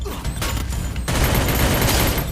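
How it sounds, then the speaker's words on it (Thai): A P90 submachine gun fires at close range in a shooting video game, rapid, loud bursts that merge into a dense stream of gunfire and grow heavier partway through. "แล้วผมก็จะใช้ปืน P90 ยิงในระยะของผมนะครับ"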